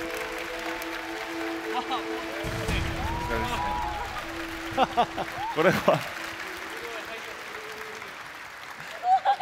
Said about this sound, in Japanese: では皆さん拍手でお迎えください